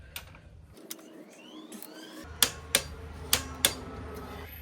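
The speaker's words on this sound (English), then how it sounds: "grab your torque wrench, set it to 70 Newton meters or 52 foot-pounds" A torque wrench clicks on a front wheel fastener of a Royal Enfield Himalayan 450 motorcycle: four sharp, close metallic clicks in a quick row, preceded by softer ratcheting and faint workshop noise.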